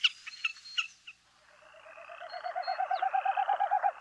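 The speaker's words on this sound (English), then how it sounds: "as they dive, the wind going through their tail feathers makes the winnowing sound." A displaying bird, likely a snipe in a dive, produces the winnowing sound of wind through its tail feathers: a rapid, pulsing, hollow tremolo building over a couple of seconds, preceded by a few sharp calls.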